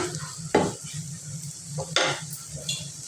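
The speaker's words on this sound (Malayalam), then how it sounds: "ഇത് നന്നായിട്ട് ഇളക്കി കൊടുക്കുക" Sausage sizzles in a frying pan under steady frying hiss, with two sharp scrapes and clatters of a spoon stirring against the pan, plus a lighter touch near the end.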